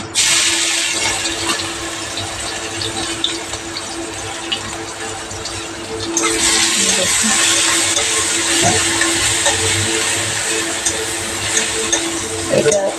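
Garlic sizzling in hot oil for a prawn and taro-leaf dish, a loud, steady, close frying hiss that intensifies midway, with occasional stirring clinks.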